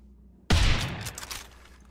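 A single sharp burst of SMG secondary fire from Shadowcore VR, a 5v5 sci-fi hero shooter, hits suddenly after near silence, then rings off into a fading, rough tail of echo.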